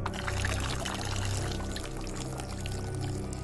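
Water pours steadily in the Plants vs Zombies Battle for Neighborville video game, a continuous quiet gushing stream with no voices over it.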